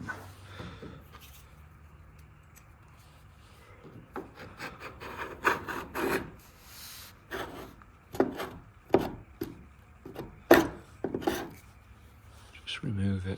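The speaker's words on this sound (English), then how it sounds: "So the way I'm doing that is with a carbide scraper" A carbide scraper rasps putty off a wooden boat plank in irregular, close strokes, quiet at first and then sharper and more frequent as the scraping gets going.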